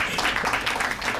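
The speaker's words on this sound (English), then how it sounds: "You can clap for Frank." An audience applauding at a morning congressional forum: a brief, dense wash of clapping from a crowd, loud and steady.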